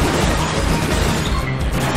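A smashing attack strikes in the video game Pokémon Battle Revolution, a loud, dense crash with no distinct pauses across its full two seconds.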